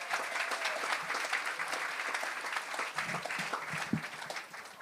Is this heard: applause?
yes